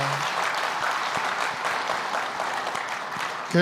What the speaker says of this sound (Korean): 우리 목사님에게 감사 박수 한번 하도록 하겠습니다